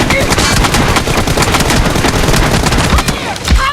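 Loud, dense rapid gunfire from the battle royale video game BGMI, with continuous automatic bursts and sharp cracks filling the whole stretch.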